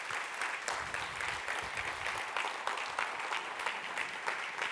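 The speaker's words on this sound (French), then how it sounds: "j'aimerais tous que vous applaudissiez très fort pour souhaiter un très bon anniversaire à Fujitsu" Applause from a large audience at a Fujitsu corporate conference plenary, a dense even rush of clapping that continues throughout at moderate distance, with no talk over it.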